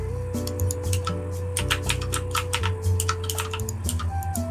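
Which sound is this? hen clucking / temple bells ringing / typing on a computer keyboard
typing on a computer keyboard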